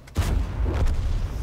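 A-44 tank cannon firing in the video game World of Tanks; a deep booming shot with low rumble, followed by a second muffled blast, heard fairly loud with no talk over it.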